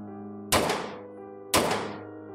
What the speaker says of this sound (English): He hit the floor with a heavy thud.